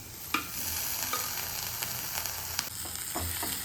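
Boiled bitter gourd (karela) sizzles steadily as it is stirred into masala in a pan, with a few sharp clicks of the spoon against the pan and no talk.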